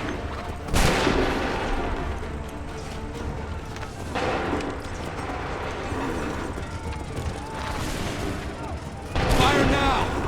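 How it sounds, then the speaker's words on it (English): Musket volleys in Assassin's Creed III ring out as sharp bursts of massed gunfire over a constant noisy battle din, with several loud volleys spaced through the scene and shouting voices mixed in. "Fire now!"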